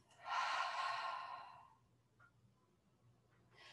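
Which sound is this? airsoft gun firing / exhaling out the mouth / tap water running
exhaling out the mouth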